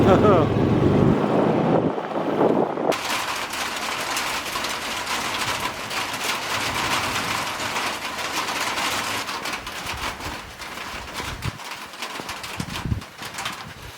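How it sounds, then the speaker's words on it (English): Rain sets in at a farmhouse during a cold weather change, a dense, hissing broadband wash that begins abruptly and then holds steady outdoors, with some wind buffeting the microphone and a low rumble underneath. "Oh, here's the rain."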